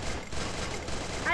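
Gunfire in the battle royale game Free Fire, a dense, continuous burst of shots filling the whole moment, loud and close, with players talking over it.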